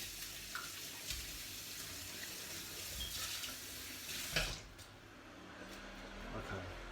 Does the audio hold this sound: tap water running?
yes